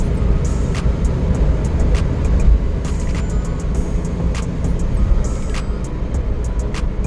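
A Suzuki Samurai DA64W with a turbo engine and automatic transmission accelerates toward 80, giving a steady loud drone of engine and road rumble from inside the cabin, with faint ticking clicks above.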